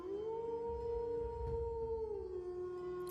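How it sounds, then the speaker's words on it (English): A howl rings out from inside an abbey, steady and drawn out for several seconds, with low snarling and growling churning beneath it; a brief burst of noise cuts in at the very end. "You hear a howl coming from inside, along with some snapping and snarling and a bit of growling."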